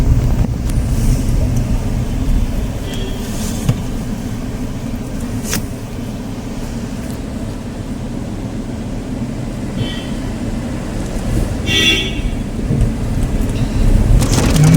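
Steady rain drums on a moving car during a first long road trip by a Renault, with continuous road and engine rumble underneath and a few brief brighter spatters along the way; no talking.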